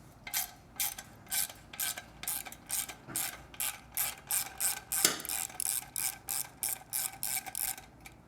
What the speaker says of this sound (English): You get your 10mm socket and loosen up that clamp.